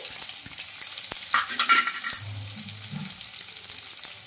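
Long-sliced onions and green chilli pieces frying in hot oil, a close, steady bright sizzle that swells briefly as the pieces are moved, with a few soft taps of a spatula and no voices.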